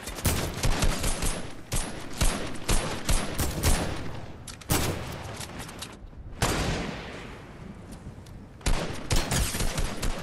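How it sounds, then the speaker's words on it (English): Fortnite gunfire comes in dense, rapid bursts of shots separated by brief pauses, loud and close throughout. "I thought someone was shooting at me then"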